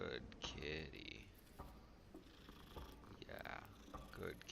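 A cat in Hogwarts Legacy purrs in a close, steady rumbling rhythm, joined by brief bright chimes and soft game ambience, with some speech-like sounds in places.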